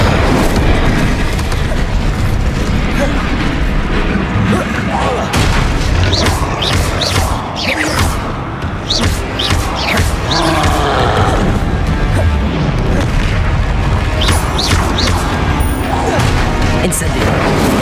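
Incendio fire spell blasts in Hogwarts Legacy combat boom and crash repeatedly through a dense, loud battle mix, with other spell impacts layered in and shouted spell names over the top.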